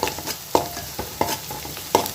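Ingredients sautéing in a pan for fish curry, a close frying hiss punctuated by rhythmic scraping strokes of a spatula stirring about every half second.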